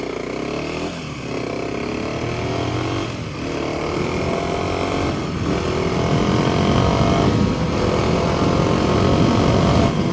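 A 2024 Kawasaki KLX 300 dual-sport motorcycle rides along backroad trails, its single-cylinder engine droning steadily and loud throughout, with repeated rising revs as the rider works through the gears.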